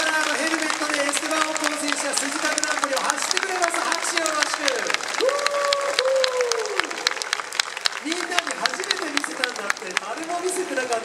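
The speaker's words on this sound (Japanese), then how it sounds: "拍手よろしく" An audience applauds at an F1 talk show in a public square in Kabukicho, Shinjuku, steady clapping running throughout while a voice talks over it.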